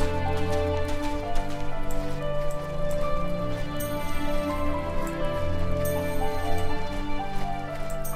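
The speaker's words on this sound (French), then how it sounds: "C'est moi ou il pleut en fait?" Steady rain pattering throughout over a layered synthetic background with sustained tones, constant and even in level, in the video game The First Tree.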